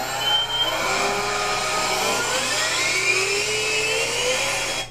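The engines of a radio-controlled Pan Am L-1011-500 airliner model spool up as the throttles advance for a maiden-flight takeoff, a loud, continuous whine that rises steadily in pitch.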